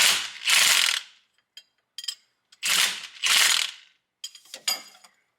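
Ratchet clicks in quick bursts while a new nylon lock nut is tightened onto a C5 Corvette (1998–2004) during a lowering job, four loud close ratcheting runs separated by short pauses and a few lighter clicks.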